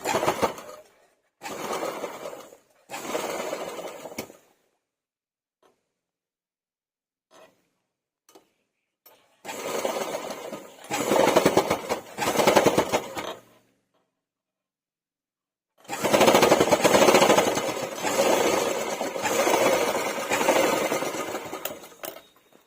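A sewing machine stitches a new zip into a pair of trousers, running in several loud, close bursts of fast, even whirring separated by silent pauses, with a long final run.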